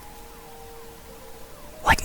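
Police sirens wail faintly in the distance in Halo 3 ODST, a steady high tone with slow up-and-down sweeps, until a sudden loud burst of noise cuts in near the end.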